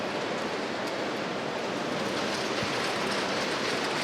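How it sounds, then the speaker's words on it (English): Steady broadband hiss of rain falling outside a conference theatre, constant and even throughout with no distinct drops or breaks, a soft continuous wash at moderate level. "That's the rain."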